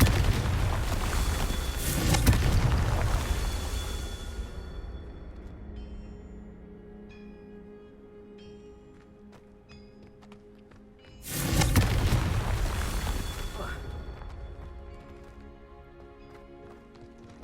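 Confringo blasting spells from the Hogwarts Legacy video game erupt as two loud booming explosions, one at the start and another about eleven seconds in, each fading into a long rumbling decay with game sounds ringing underneath.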